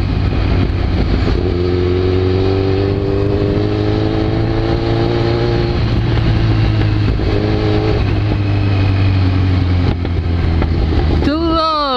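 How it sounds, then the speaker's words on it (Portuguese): A Kawasaki Z1000 motorcycle engine drones steadily at close range in traffic, pitch rising and falling as it accelerates and shifts, with a voice speaking over it. "A moto é muito forte."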